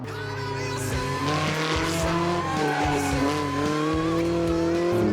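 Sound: older-era rally car driven hard on a track, rear stepping out

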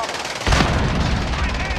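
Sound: gunshots in a video game

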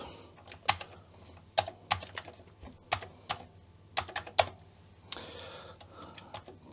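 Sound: typing on a Commodore computer keyboard

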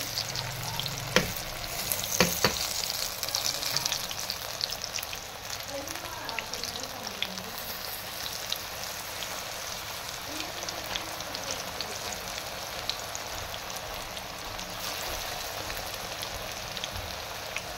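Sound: palak pakoras frying in hot oil

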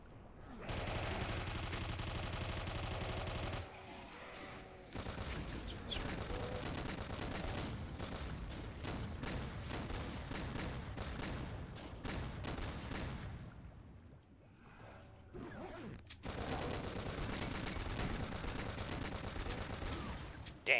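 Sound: gunfire in the video game Doom (Nihility wad)

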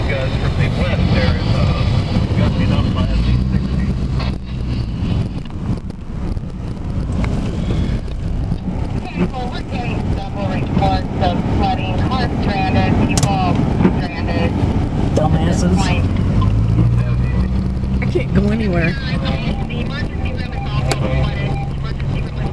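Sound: strong wind gusts during hail storm flooding

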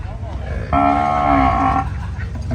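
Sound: cattle and buffalo at a livestock market

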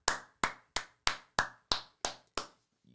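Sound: round of applause, clapping

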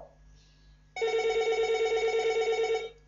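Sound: telephone ringing

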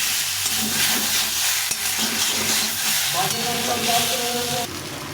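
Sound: frying tomato paste with potatoes in a pan

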